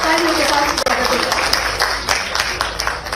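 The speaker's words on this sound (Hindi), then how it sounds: "एक बार फिर जोरदार तालियों के साथ स्वागत" An audience at a formal welcome event claps loudly and continuously, a dense sustained round of applause filling the room at close range.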